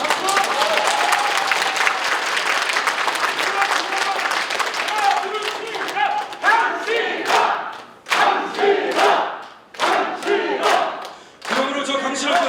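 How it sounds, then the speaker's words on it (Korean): A political rally crowd claps and cheers loudly, first as a dense continuous roar, then in choppy rhythmic bursts of group clapping with short gaps between them. "박수!"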